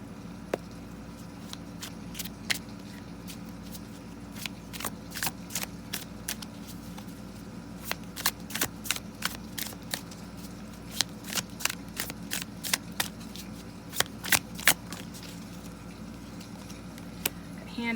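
A tarot deck is shuffled by hand in repeated bursts of crisp riffling card flicks, close and fairly quiet over a low steady background hum, growing busier toward the end.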